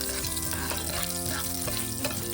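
Black cumin seeds tempering in hot oil are stirred in a pan, giving a continuous loud sizzle and crackle with scraping stir sounds running through the whole stretch.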